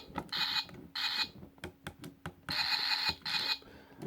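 A transformable Energon Ironhide toy's turret being turned gives off bursts of bright mechanical creaking and ratcheting, several short grinding runs separated by small clicks, close up with no talking.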